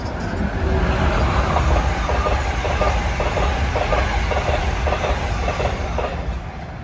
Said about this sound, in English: this train obscured Amtrak 193, bound for Washington, rushing past on track 3.